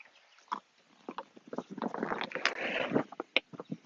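Air hisses and squeaks out in irregular bursts as an inflatable dinghy is pressed and rolled up aboard a Beneteau Antares 11, with rubbery fabric rustling close by.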